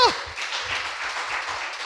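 A church audience at a Bulgarian-language service breaks into applause, a steady moderate wash of clapping that carries on evenly for a couple of seconds after a brief vocal sound at the start.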